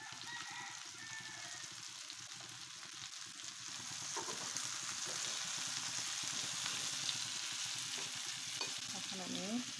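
Eggplant frying in a pan with salt, a steady broadband sizzle throughout that grows a little louder midway, with faint bird calls in the background.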